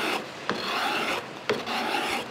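A card scraper made from an old hand saw blade shaves wood, giving a few near, rhythmic rasping strokes about a second apart, each opening with a sharp scrape, with no voices.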